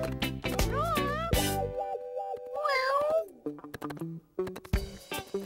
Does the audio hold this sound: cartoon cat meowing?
yes